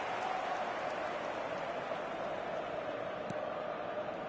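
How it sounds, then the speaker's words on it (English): Stadium crowd noise from an eFootball match, a steady roaring wash of cheering and murmur rising in reaction to play, heard alone without commentary over it. "the crowd are reacting to that now"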